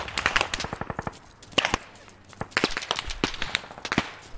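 Rapid gunfire in the Squad military shooter, with dense bursts of sharp automatic shots and a few separate heavier cracks, loud and close, coming in clusters with brief pauses.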